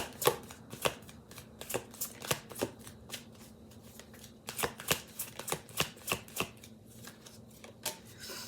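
A deck of tarot cards is shuffled up close, a run of quick crisp riffles and slaps in uneven bursts over a quiet room background, with no talking.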